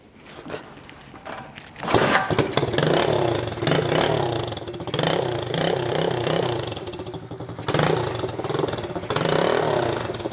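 An old engine fitted with a new carburettor and a broken exhaust fires up and runs, its rough, clattering note rising and falling through repeated revs close by, with no talk over it.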